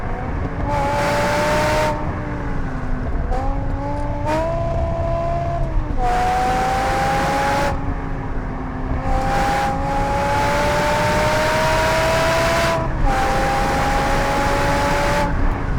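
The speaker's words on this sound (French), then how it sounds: "le moteur il souffle vraiment comme les Formule 1" A 15-year-old BMW M6 with its Formula 1-derived V10, rated to 8,200 rpm, revs and pulls hard while driving, its steady rising engine whine climbing and dropping across several gear changes, loud and close throughout.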